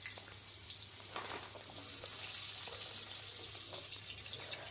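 Cut potatoes sizzling in hot oil with panch phoron, a steady, faint hissing crackle close by with no voices.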